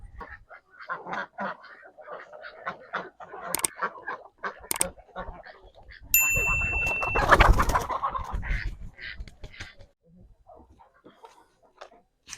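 Ducks quack and honk in scattered bursts as they are caught for plucking in a village yard, with a louder flurry of scuffling and loud calls in the middle.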